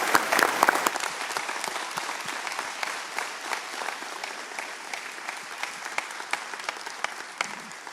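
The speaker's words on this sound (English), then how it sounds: "let's give them a round of applause." Audience at a luncheon for Division I men's basketball coaches in Missouri applauds steadily for about eight seconds, a dense wash of many hands clapping at a moderate distance that slowly tapers off, with no talking.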